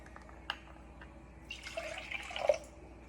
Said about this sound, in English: And then we're going to add about 3/4 cup of water